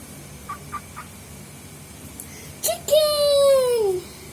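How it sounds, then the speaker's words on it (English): A chicken being carried and held up close gives a few soft clucks, then a loud, drawn-out squawk that slides downward in pitch and lasts about a second. "I'm gonna carry a chicken with Papa Goose."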